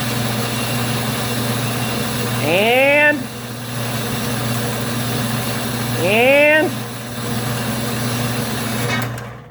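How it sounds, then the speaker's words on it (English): A small metal-cutting band saw runs with a steady, loud motor hum, while two rising whoops from a nearby voice rise over it; the machine sound cuts off abruptly at the very end. "This little thing hits the switch, shuts the machine off."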